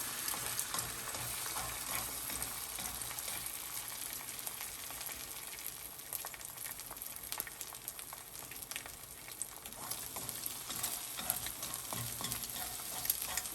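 Egg sizzling in a hot pan while a chopstick spreads it, a dense continuous frying hiss with busy scraping and stirring texture, close and steady, no talk.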